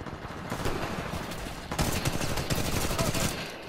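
Dense, continuous gunfire from the video game Titanfall 2, a steady barrage of rapid shots with overlapping bursts that grows louder and busier partway through, with a voice faintly mixed in.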